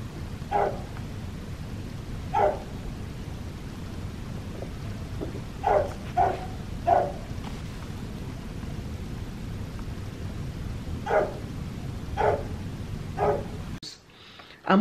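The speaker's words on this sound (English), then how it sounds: "This dog barks, and this dog can bark for hours." A neighbour's dog barks repeatedly at a distance, single and paired barks spaced every second or two over a steady background hiss.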